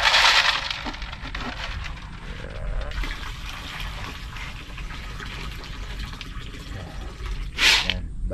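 Clean water poured into a basin for rinsing food, a splashing rush at the start settling into steady trickling and sloshing, with another short pour near the end.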